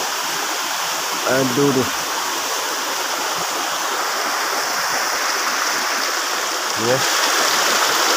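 A small river flows through a forest with a steady, rushing wash of water, while a person makes short vocal exclamations twice over it.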